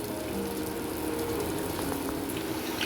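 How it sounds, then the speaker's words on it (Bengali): Papad lightly frying in a pan gives off a soft, steady sizzle and bubbling, faint and continuous without any voices. "আমি এগুলো একটু ভেজে নিচ্ছি হালকা করে"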